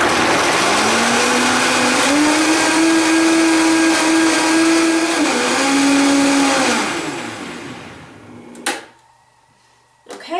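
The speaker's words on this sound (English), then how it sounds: "so any blender, just blend on high." A blender runs on high, blending soaked almonds with water into milk, a loud steady whirring motor whose pitch shifts slightly, then winds down and stops, followed by a couple of clunks.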